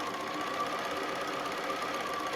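A sewing machine stitching a quilt seam a quarter inch from the edge, running in a steady, fast, even whir throughout at moderate level with no talk.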